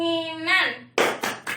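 A voice chants before three sharp hand claps land in quick succession during a clapping game, loud and close, each clap a crisp slap with short gaps between.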